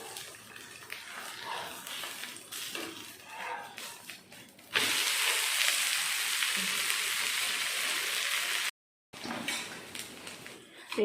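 Pearl millet dosai sizzling on a hot pan after flipping, a sudden loud steady hiss that holds for several seconds, cuts out briefly, then returns with softer kitchen noise.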